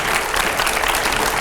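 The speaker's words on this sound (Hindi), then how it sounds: "जोरदार तालियों से स्वागत करिए दिल्ली की मुख्यमंत्री" An audience gives loud, dense applause welcoming the Delhi Chief Minister onto the stage at a televised editors' panel event, a steady sustained clapping with no voices on top.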